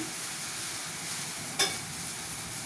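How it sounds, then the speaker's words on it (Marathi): Puris deep-frying in an iron kadhai, a close, even sizzle of hot oil broken once by a sharp clink, with no voices. "ते सगळे एक एक करून सगळे पुऱ्या मी तळून घेणार आहे."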